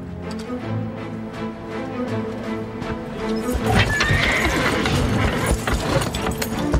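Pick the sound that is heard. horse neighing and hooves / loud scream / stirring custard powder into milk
horse neighing and hooves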